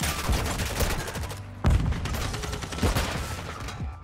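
Video game gunfire with fire shotguns, rapid overlapping blasts in dense bursts, one sharp heavy shot standing out partway through, and no talk over the shooting.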